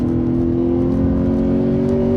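A 2016 Lexus GS F engine drones loudly and steadily at high revs during a fast lap on a track, a close, sustained hum with no voices.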